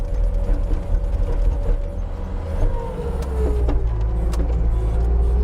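Diesel engine of a Bobcat or Kubota SVL75 compact track loader held at high RPM, a steady loud drone with a sustained whining tone, mechanical rattles and faint clicks over the top, with no talking.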